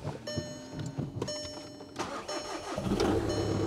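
A car that has sat for a while with a drained battery cranks sluggishly with a whining starter for about two seconds, then the engine catches and rumbles into an idle, recorded close with no talking.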